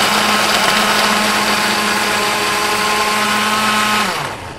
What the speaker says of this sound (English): you just throw it all in a blender